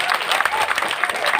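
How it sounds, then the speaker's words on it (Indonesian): Audience applause at a Balinese temple stage performance, Pura Puseh in Saba: a dense, continuous patter of many hands clapping at moderate distance, steady throughout with no voices standing out. "Kemudian tepuk tangan."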